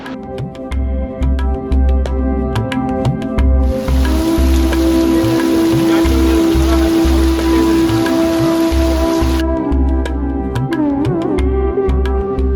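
Heavy rain pours across misty Tirumala as a steady broadband hiss for several seconds in the middle, laid under continuous music with a thumping beat that carries on before and after the downpour.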